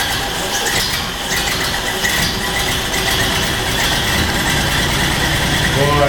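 A 1930 Model A Ford engine idles steadily after a Bendix starter repair, a continuous close mechanical run with a faint squealing overtone and no speech.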